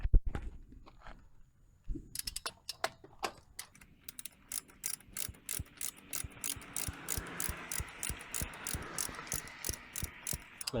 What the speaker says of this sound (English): I'm going to be using a torque wrench